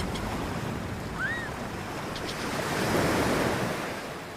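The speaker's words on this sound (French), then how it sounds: "bruit des vagues" Ocean waves wash onto a beach in a continuous broad surf roar that swells louder near the end, with wind noise and a faint bird call briefly above it.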